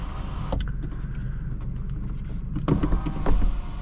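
The automatic sunroof shade of a 2024 BMW 530i xDrive slides open inside the cabin with a steady, soft electric motor whir and a few light clicks and creaks, growing slightly louder toward the end.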